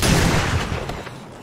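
Gunfire aimed at zombies in the survival game 7 Days to Die, a loud rapid burst of shots with booming low rumble that tails off over a second and a half, no talk.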